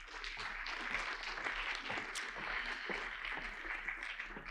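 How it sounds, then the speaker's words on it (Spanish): An audience at a seafood industry congress round table claps for a moderator, a dense, even wash of applause filling the room for several seconds. "Un aplauso para ella."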